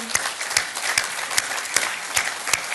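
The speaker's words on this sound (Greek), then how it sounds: "θέλω να σας ξαναζητήσω ένα χειροκρότημα από τώρα για τους ανθρώπους" An audience at the presentation of the newly founded Hellenic Space Agency applauds, with a steady crowd clapping broken by a few sharper, evenly spaced claps standing out near the recorder.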